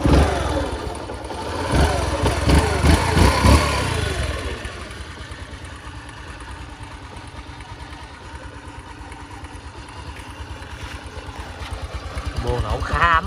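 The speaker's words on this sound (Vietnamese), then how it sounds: "Đây, em xin nổ máy em nói luôn nha." A Yamaha News Mate 90cc four-stroke motorcycle idles with a steady, even putter, close by and moderate in level. It follows a louder stretch where someone speaks over the engine, and the revs rise slightly near the end.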